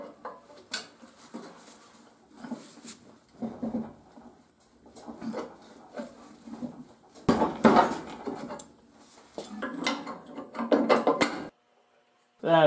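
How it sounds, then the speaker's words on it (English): Metal clanks and scrapes as a spud wrench levers a bent mower deck bracket back into line, irregular loud knocks with short pauses, close by, with a voice talking at times. "We'll throw a spud wrench on it and try to get it to straighten out."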